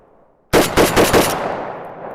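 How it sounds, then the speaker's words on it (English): An Arsenal SAM7K-44 rifle fires training rounds in a quick burst of four close, sharp shots, each one loud and clipped, with the last trailing into a fading echo. "It's a training round. I could shoot that thing all day long."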